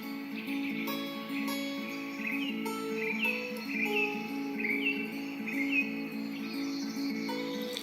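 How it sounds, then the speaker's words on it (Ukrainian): House sparrow chirping in short repeated calls that come steadily throughout, heard over a sustained musical backing. "Горобець."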